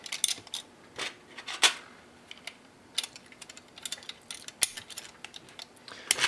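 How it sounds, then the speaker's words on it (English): Small metal washers clink onto a terminal of a lithium-ion battery pack during sensor wiring, with a series of sharp, close metallic taps and clicks scattered through a quiet room. "put a couple washers on there"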